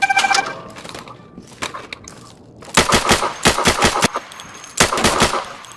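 Rapid automatic gunfire rings out in the video game Insurgency during a close-quarters room-clearing exercise, with loud sharp bursts and separate single shots scattered over several seconds.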